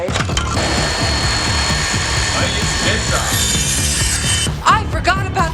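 A jigsaw cuts through old fence wood, a loud continuous buzzing rasp of the reciprocating blade that holds steady for several seconds before stopping with a few clattering knocks.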